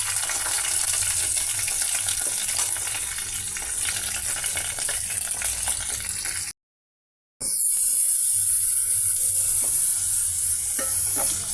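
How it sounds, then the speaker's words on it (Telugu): Curry leaves and chana dal sizzle loudly in a ladleful of hot oil, a dense close crackling hiss that stops briefly and then returns just as strong. "పెద్ద గరిటెడ ఆయిల్లో ముందుగా కర్రీ లీవ్స్, ఆ తర్వాత పచ్చిపప్పు యాడ్ చేసామండి"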